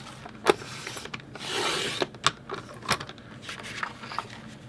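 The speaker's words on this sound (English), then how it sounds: "I'm going to trim that down, trim that photo down just a little bit" A photo being trimmed on a paper trimmer for a travel album: sharp clicks and a short sliding rasp of the blade across the paper, close and quiet, with a few knocks between.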